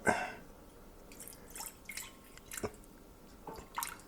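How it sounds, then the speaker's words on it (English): Water being poured into a small pot while preparing nectarine wine, heard as a few soft, close splashy drips and trickles, scattered and quiet, with no talking. "we want to take a little bit of our water and put it in a small"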